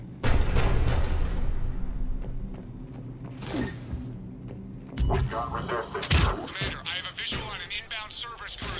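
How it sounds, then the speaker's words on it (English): Heavy booming blasts of cannon fire in Mass Effect 3 with sharp impacts and crackling debris, interspersed with quieter stretches and a voice speaking briefly. "The cannon fire is clearing the way."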